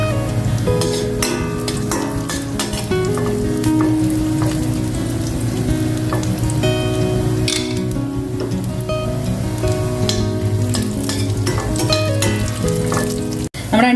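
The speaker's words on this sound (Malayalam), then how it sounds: "ഇനി നമുക്ക് എടുത്തു വെച്ചിരിക്കുന്ന അണ്ടിപ്പരിപ്പ് അതിലോട്ട് ചേർത്ത് കൊടുക്കാം" Cashew nuts frying in hot ghee for palada pradhaman, a loud, continuous sizzle and crackle close by, with occasional stirring scrapes through the pan.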